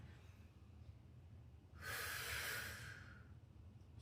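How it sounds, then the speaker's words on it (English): A single deep, audible breath during a slow mat-based shoulder and thoracic spine mobility exercise, a long whooshing exhale rising out of quiet room tone and fading after about a second and a half. "Inhale down, exhale up."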